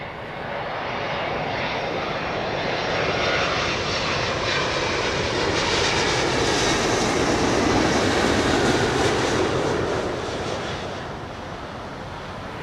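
Boeing 777-200 jet at Heathrow passing with a broad, roaring engine rumble that swells to a peak midway and then slowly fades, heard from a moderate distance with no voices.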